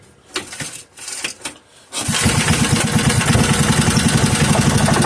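A 3hp Briggs and Stratton small engine fires up after a few short cranking pulls, then runs at a steady, fast thumping idle, loud and close.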